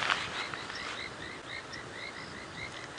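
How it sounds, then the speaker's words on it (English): Frogs call at dusk on a rainy evening in the African bush, including painted reed frogs and an olive toad, giving a steady chorus of quick repeated chirps at moderate distance. "the frogs start"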